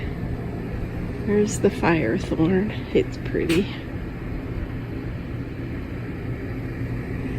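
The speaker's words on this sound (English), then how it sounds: "You can hear the jacuzzi in the background." A steady low jacuzzi motor hum runs throughout, with a person speaking briefly over it near the start, then the droning continues alone.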